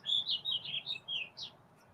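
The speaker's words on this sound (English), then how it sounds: "birds are singing. I'm just going to listen to the birds for a bit." Birds singing outdoors, a run of bright high chirps and short trilled phrases close by, fading out toward the end over a quiet background.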